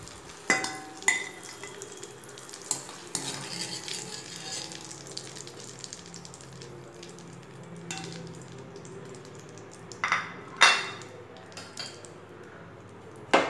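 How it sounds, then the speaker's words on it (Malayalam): Jackfruit pieces fry in hot oil with a quiet, continuous sizzle. Scattered clinks and scrapes of a spoon or pan break in now and then. No voices. "അതേപോലെ തന്നെ നമുക്ക് ബാക്കിയുള്ളതും ഫ്രൈ ചെയ്തെടുക്കാം"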